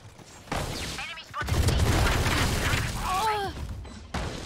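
Grenade detonation in the shooter game Valorant, a loud sustained burst of booming, crackling noise mixed with game effects, with brief spoken voice fragments around it.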